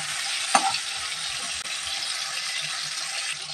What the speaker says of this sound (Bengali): চিংড়ি মাছগুলো কিন্তু আমরা হালকা করে লালচে করে ফ্রাই করে নিয়েছি